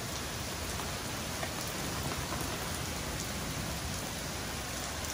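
Heavy rain pours steadily during an outdoor barbecue cook, flooding the ground, a dense continuous hiss of drops striking surfaces, with no voices.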